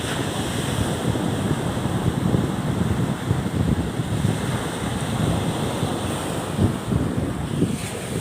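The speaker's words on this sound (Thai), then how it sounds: "คลื่นลมก็กำลังสบายดี ช่วงนี้" Steady surf rolls and crashes under constant gusting wind at Samila Beach in Songkhla, Thailand, a dense, continuous roar without pauses or voices.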